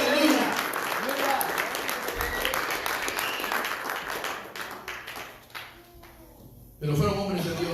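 Congregation applause during a church sermon, dense sustained clapping that fades out around the middle, followed by a pause before a preacher's voice returns.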